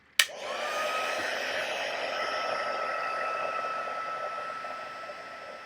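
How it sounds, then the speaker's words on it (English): A heat tool switches on with a click and then blows hot air in a steady, loud whoosh that stays even for several seconds. It is close and heard alone, with no voices. "So here is the heat tool."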